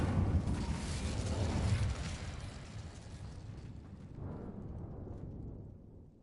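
An Incendio fire spell in the game Hogwarts Legacy bursts out as a roaring whoosh of flame that starts loud and full, then fades into a softer second rush before dying away.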